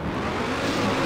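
A car racing in the video game TrackMania United Forever, its engine giving a steady, continuous drone without a break, alone and fairly loud.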